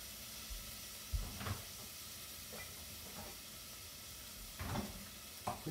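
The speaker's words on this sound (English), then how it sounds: "I'll give it a little bit of a stir" Vegetables for a leftover beef vegetable soup stirred in a hot pot, a faint steady sizzle with a few soft scraping strokes of the spoon.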